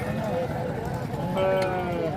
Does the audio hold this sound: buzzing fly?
no